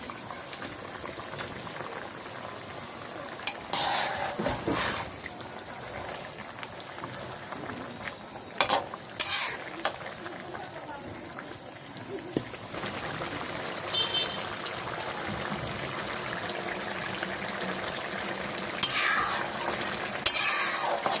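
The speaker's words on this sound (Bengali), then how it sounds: "বরবটি দেওয়ার পরে সুন্দর করে ঝোলটা ফুটে উঠছে, আমি এখন ভেজে রাখা মাছগুলো দিয়ে দিচ্ছি" Koi fish curry with yardlong beans and potatoes simmers in a pan as fried fish goes in, a continuous close bubbling with occasional scraping stirs and utensil knocks.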